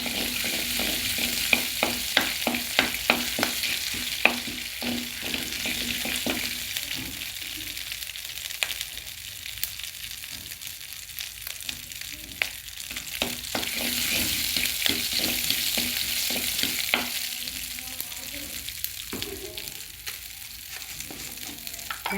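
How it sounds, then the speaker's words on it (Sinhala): Mustard seeds and chilli pieces fry in a pan for a Sri Lankan jackfruit curry, giving a steady hissing sizzle with rapid crackling pops and intermittent stirring scrapes, close and uninterrupted by speech. "අබ ටික හොඳට බැදුනට පස්සේ දාන්න ඕනේ මිරිස් කෑලි."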